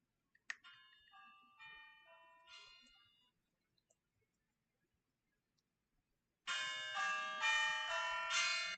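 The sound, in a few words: phone ringtone sounding like Christmas bells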